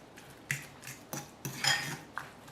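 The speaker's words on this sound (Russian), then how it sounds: "Все хорошо перемешаю." A utensil repeatedly clinks and scrapes against a bowl while dill, cheese and grated garlic are stirred together, a series of close, light metallic taps in an irregular rhythm with no talking.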